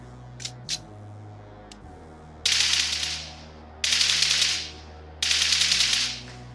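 A few quick single shots, then three long bursts of rapid automatic gunfire in the video game BGMI, each lasting over a second with short pauses between. No voices.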